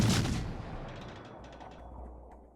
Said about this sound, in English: There's the Zara shooting at me again, because Zara.